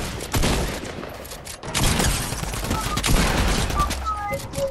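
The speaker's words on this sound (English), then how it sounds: "I'm about to fire at them." Rapid gunfire bursts rattle through a Fortnite gunfight, loud and dense for most of the stretch, with short electronic game tones near the end.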